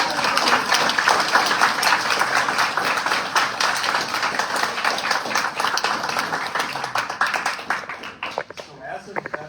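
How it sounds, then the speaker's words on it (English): An audience claps in a sustained round of applause at a five-year celebration event on the Marine Corps birthday, dense and steady for several seconds before thinning out near the end. "can we get a good round of applause for today?"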